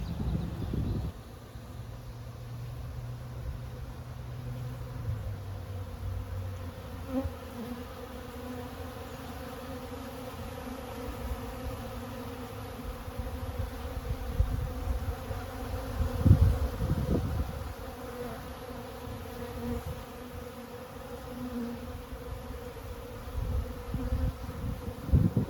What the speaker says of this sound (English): the bees are definitely active